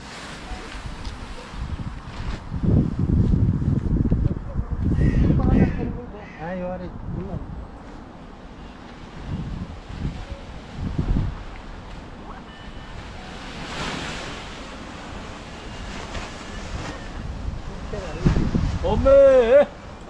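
Wind gusting and roaring around a paraglider in flight above a steep slope, a strong rushing blow that swells and fades in surges, with speech heard throughout.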